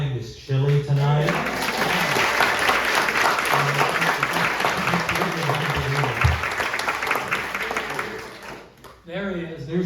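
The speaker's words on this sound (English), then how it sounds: "let's give a big round of applause for Neil Mooney and Valerie Chung for providing this chili tonight" An audience breaks into sustained, dense applause at an evening community program after a chili dinner, with voices speaking over the start and end of the clapping.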